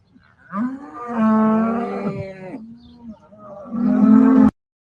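Dairy cows moo in a barn, a few long, deep, tonal calls that overlap and swell, loud and close, with a brief quieter gap before a final strong bellow that cuts off abruptly.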